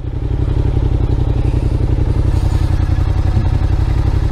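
Motorcycle engines roaring very close and loud with a fast, steady throbbing rhythm throughout and no talking.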